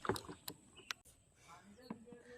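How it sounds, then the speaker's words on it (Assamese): A small wooden boat rowed by hand, oar strokes producing short knocks and splashes in an uneven rhythm, close by, with a few quieter dips of water between strokes. "এখন হাতে নাও চলাইছোঁ"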